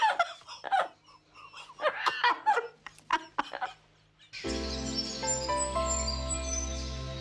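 Harry the parrot lets out a loud, sustained harsh squawk at close range after a stretch of chattering, giggle-like calls, reacting as a person comes near.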